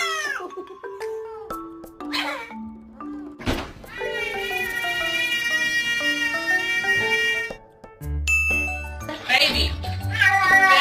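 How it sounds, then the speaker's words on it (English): A house cat meowing repeatedly, close and loud, a series of drawn-out tonal yowls that rise and fall, mixed with background sounds and some faint voices. "My cat Charlie just..."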